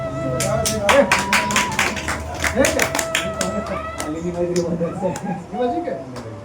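Rhythmic hand clapping from a crowd at a Guru Purnima religious gathering, steady beats running through most of the stretch with voices talking over it.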